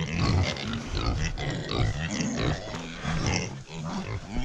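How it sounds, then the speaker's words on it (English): Farm pigs waiting for their morning snack grunt close by, a dense, continuous run of overlapping low grunts and snorts with no pauses. "The pigs are anxiously awaiting their morning snack."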